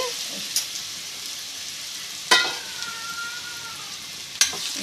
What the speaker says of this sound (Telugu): అదే ప్యాన్ లో మామిడి ముక్కలు వేసుకోవాలి